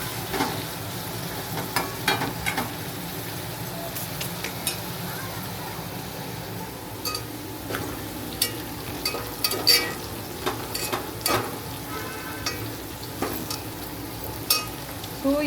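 Prawns frying in a pan for biryani, cooking over a medium flame, make a soft, continuous sizzle. Scattered stirring scrapes and light utensil clicks sit on top, fairly quiet and close, with no one speaking.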